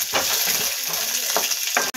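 Fresh pigeon pea pods sizzle loudly in hot oil in a wok, a continuous close frying hiss broken by the scrape and rustle of stirring.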